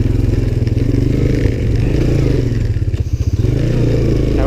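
A Suzuki LTZ 250 ATV fitted with a DG Performance exhaust, its single-cylinder engine thumping in a loud, close, rapid pulse that rises and falls slightly as it revs, with a little mechanical clatter and no speech.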